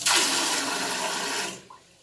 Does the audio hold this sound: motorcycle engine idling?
no